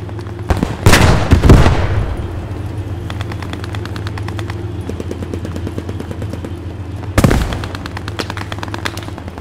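In the World War II shooter Post Scriptum, a machine gun lays down suppressing fire in long, rapid bursts, loud and close, with heavy blasts near the start and again toward the end.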